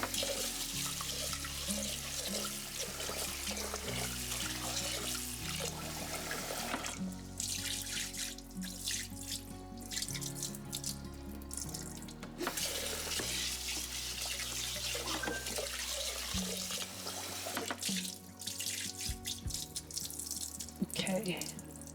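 Rice is washed and rinsed by hand under a running kitchen tap, with continuous splashing water and faint swishing throughout.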